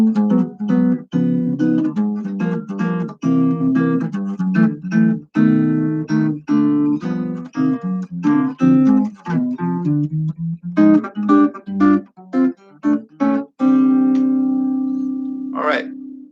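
Jazz guitar playing a chromatic bridge built on tritone substitutions, with a steady run of plucked chords and single notes moving downward, close and clear, ending on a sustained ringing chord.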